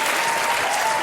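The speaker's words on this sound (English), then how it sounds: "Thunderous applause." A live quiz show audience breaks into loud, dense applause, a continuous wash of many hands clapping at once with no gaps.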